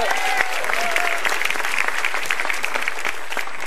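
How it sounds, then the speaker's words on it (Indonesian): Audience applause for a stand-up comedian at a televised comedy battle, a dense, steady burst of clapping that holds at constant loudness from start to finish, with faint voices underneath. "Tepuk tangan buat Bang Iwel ya"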